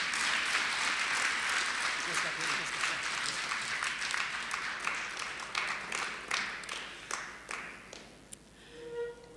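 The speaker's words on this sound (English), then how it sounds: "can we give him a round of applause again, please?" Delegates at an Eastern Cape public participation meeting applaud, the clapping dense at first, then thinning into scattered individual claps that fade out, with a faint voice at the very end.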